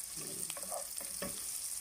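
Garlic going into hot butter in a pan, a soft close sizzle with a couple of brief utensil knocks and stirring sounds, quiet overall and without voices.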